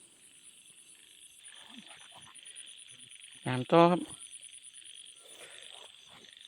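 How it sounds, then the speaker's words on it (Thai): Frogs croak along a stream at night against a constant insect hum, with one short loud burst of croaks up close, and someone speaks briefly. "กบใหญ่"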